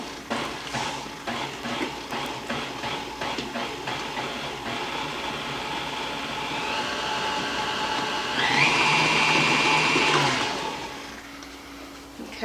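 An electric mixer beats milk mixture into banana cake batter, a steady loud whirring drone that intensifies near the end before dropping off, with no talk.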